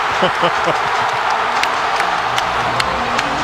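Basketball crowd roaring inside the packed Raleigh arena at an NC State home game against Duke, a loud sustained wall of cheering with clapping, a commentator speaking over it.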